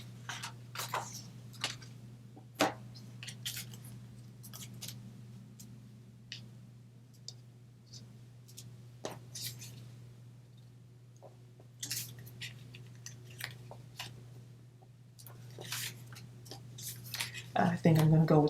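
Scissors snip paper for Valentine's gift tags with a run of crisp, close clicks and cuts scattered irregularly throughout, over a steady low hum, with soft talk in places and a louder cluster near the end.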